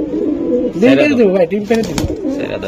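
A pair of pedigree racing pigeons, including a light-coloured hen, coo close by in bursts over about two seconds, with someone talking throughout.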